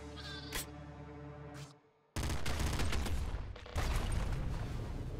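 Pink sheep bleating in the video game Nuclear Throne Ultra Mod, a short bleat followed by dense bursts of rapid gunfire that fill the rest of the moment, loud and close.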